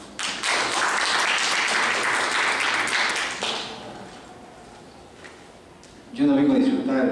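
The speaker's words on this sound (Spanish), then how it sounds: "al cual pedimos fuertes aplausos" Audience applause for a speaker at a university law school event, dense clapping filling the room for several seconds, fading down, with a voice speaking at the end.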